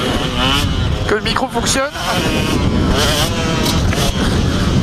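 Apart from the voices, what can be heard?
KTM 125 motocross bike engine running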